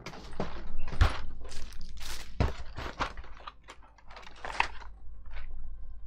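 Keystrokes on a new full-size Dark Project keyboard come as scattered, irregular clicks and taps at close range, with no voices over them.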